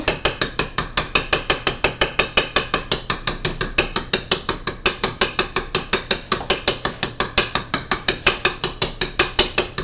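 Pizza dough being docked with a roller or poker, a rapid steady run of sharp clicking, ratcheting ticks repeating several times per second throughout, close and even with no voices.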